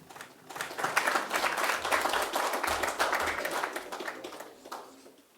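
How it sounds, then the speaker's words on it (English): Moderate audience applause at a marae gathering swells quickly, holds as a dense patter of clapping hands, then fades away over a few seconds. "let's give a warm round of applause"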